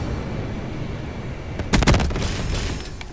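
Frag grenade going off in Call of Duty: Black Ops 3, a sudden loud blast with a short cluster of sharp bangs rising over steady background din, then a fading rumble.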